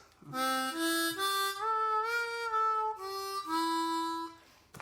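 A harmonica plays a bluesy bass riff alone, a short sequence of reedy, harmonically rich notes stepping up and back down in a steady rhythm, close and clear.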